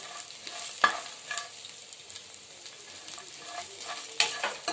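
Green chillies and cumin seeds fry in a pan with a steady sizzle, broken by a few sharp spatula scrapes and stirring clatters, close and fairly quiet.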